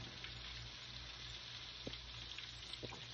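Chicken pieces frying in hot oil make a steady, dense crackling sizzle throughout, with a few brief louder pops and spits near the end; no one speaks.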